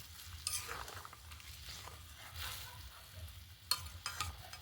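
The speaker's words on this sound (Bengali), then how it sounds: "এবারে ভালো করে একটু হালকা হাতে নেড়ে চেড়ে নেব" Small semolina snacks fry in a pan while being stirred gently, with a soft, steady sizzle and occasional light spatula scrapes, quiet and close.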